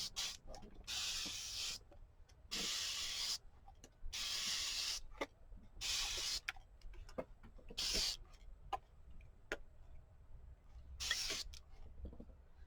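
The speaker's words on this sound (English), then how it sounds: "let's spray them with water and see what happens." A spray bottle mists water onto craft tags coated with Distress Oxide sprays, making about eight short, airy hisses one after another. Soft clicks and handling sounds fill the quiet gaps between the sprays.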